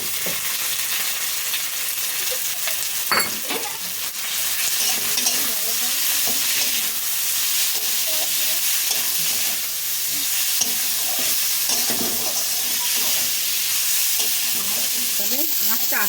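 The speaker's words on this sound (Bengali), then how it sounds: "কিমা করে রাখা চিকেনটা তার মধ্যে এবারে দিয়ে দেবো।" Minced chicken frying with turmeric powder in a pan, a loud continuous sizzle with spoon scraping and stirring sounds throughout, close and steady.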